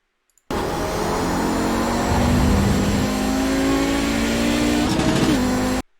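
An Audi 90 GTO race car engine in the iRacing game, heard close and continuous as it pulls steadily under rising throttle with a mid-pitched drone and climbing harmonics, briefly dipping near the end before the sound cuts off.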